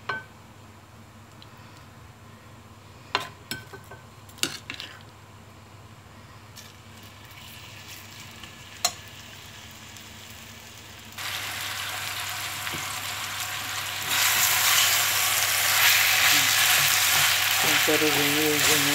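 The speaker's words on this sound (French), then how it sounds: "On fait revenir les oignons." Onions frying in oil in a pan for chicken yassa: a close, continuous sizzle with a few early clicks, growing louder in two distinct steps as the frying intensifies.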